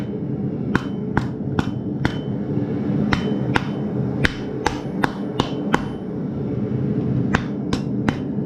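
A series of sharp, ringing hammer blows on a railroad spike being shaped into a knife, struck at an uneven pace over a steady low background hum.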